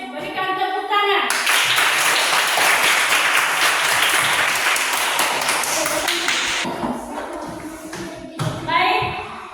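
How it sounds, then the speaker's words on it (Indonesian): A group breaks into loud clapping after a brief voice, the applause sustained for several seconds before thinning out as talking resumes. "Berikan tepuk tangan"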